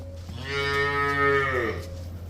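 A single cow on a farm with cows for sale lets out one long, close, loud moo that swells and then fades.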